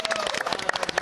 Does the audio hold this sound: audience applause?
yes